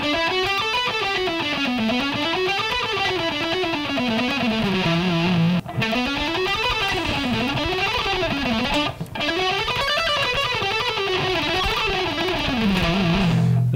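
Distorted electric guitar plays a fast shred scale pattern, each string repeated in rising and falling runs, loud and continuous with two brief breaks.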